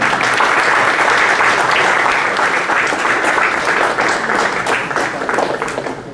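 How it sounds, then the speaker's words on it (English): A large audience applauds the panelists at the INGENIUM 5.0 startup conclave at XLRI. The clapping is loud, dense and steady throughout, easing slightly toward the end. "Let's give them a huge round of applause."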